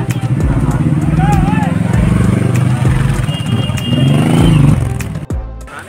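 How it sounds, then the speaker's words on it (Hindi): Motorbikes ridden by a group of bikers pass by near a waterfall, engines revving and rumbling up close, with voices and crowd chatter on top throughout. "बाइकर लोग आ रहे हैं और देखो ये बाइकर लोग जा रहे हैं।"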